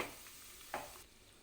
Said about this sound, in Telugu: పోపు అయితే చక్కగా వేగింది.